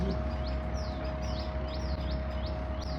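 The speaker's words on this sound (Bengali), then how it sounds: "পাখির আওয়াজ।" Birds chirp near Omkareshwar temple on the Narmada, giving repeated short, sweeping tweets at a steady pace over a constant hum and broad outdoor background noise.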